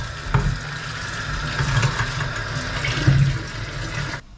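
Tap water runs steadily into a sink while fruit is washed after a veggie-wash soak, a continuous close rushing with a few brief splashes, stopping abruptly at the end; no one speaks.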